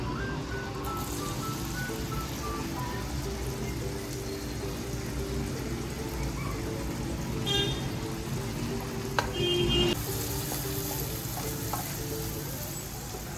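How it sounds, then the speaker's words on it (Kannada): Capsicum sizzles in melted butter in a pan, a continuous moderate frying hiss with brief stirring clinks and scrapes near the end, no talking. "ಕ್ಯಾಪ್ಸಿಕಮ್ ಸ್ವಲ್ಪ ಫ್ರೈ ಆಗಲಿ"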